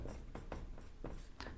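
Quiet rhythmic strokes of writing on a board in a classroom, several short scratchy marks in quick succession, faint and close.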